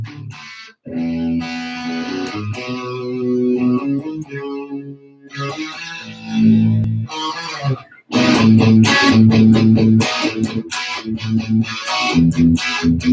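Electric guitar through an amp's distortion channel plays chords and riffs, loud and gritty, with brief pauses between phrases and sustained crunchy notes.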